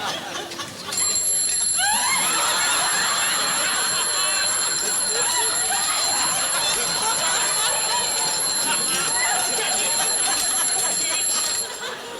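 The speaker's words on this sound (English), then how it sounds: "Sounds like an alarm clock." A shrill mechanical alarm clock rings continuously for about eleven seconds, a rapid metallic trill with people talking faintly beneath it.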